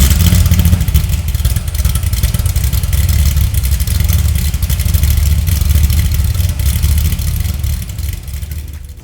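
A 2007 Corvette C6 Z06 with NPP exhaust starts up and settles into a loud, lopey idle that sounds cammed, heard up close with a slight fade near the end and no speech.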